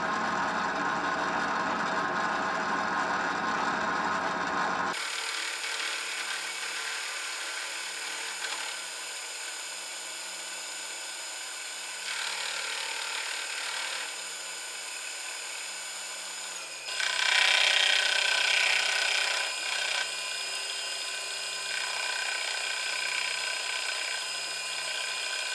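A milling cutter with carbide inserts and too much stick-out cuts metal with a droning, pulsing chatter under a steady machine hum. It begins after a burst of broadband noise and shifts pitch partway through.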